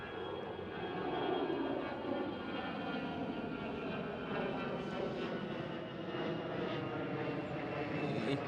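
Lufthansa airliner passing at Amsterdam Schiphol, a steady broadband jet roar that swells and holds for several seconds at moderate distance, alone with no voices.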